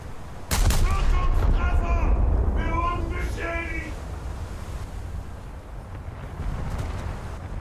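Warship turret guns fire in World of Warships aboard the Scharnhorst: a sudden heavy boom rolls into a long, fading rumble, with a voice talking over it.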